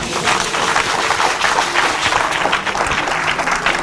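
Church congregation applauding in praise, a dense, steady wash of clapping from many hands that fills the room loudly throughout, with no speech over it.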